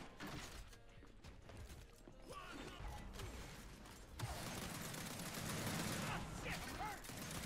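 Overkill shotgun blasts in a ranked Control match of Gears 5, loud gunfire bursts amid dense game action and clattering effects, growing busier in the second half, with voices talking over it.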